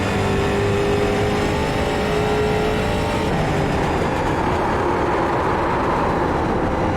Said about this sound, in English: That sound means I'm cooking my tyres.